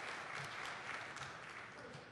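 An audience at an education ministry R&D funding briefing claps after a presentation, a brief, even wash of many hands from a seated crowd, filling the room at a steady level.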